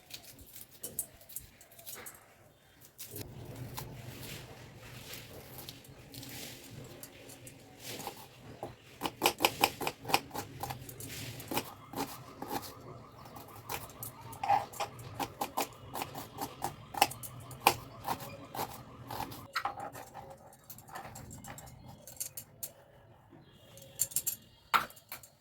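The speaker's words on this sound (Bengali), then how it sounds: "2খানা পেঁয়াজ কুচি করে কেটে নেব।" A knife finely chops two onions on a board. After a quiet start, rapid, close tapping strokes come in irregular runs and keep going to the end.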